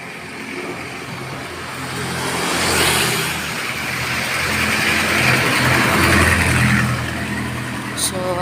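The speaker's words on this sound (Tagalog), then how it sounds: "Or mga sasakyan pa lang ang nadaan, guys." Cars pass along a quiet street, a steady engine rumble swelling and fading in broad waves over several seconds, with no talk and a brief sharp click near the end.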